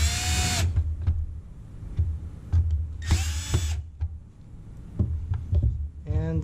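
Power drill driving screws into a Jeep Wrangler JL tail light: short bursts of high whining motor spin, one at the start, one in the middle and a brief one at the end, over low rumbling handling noise.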